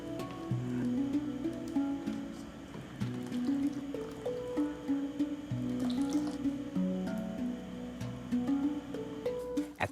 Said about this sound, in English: I add some milk and sunflower oil.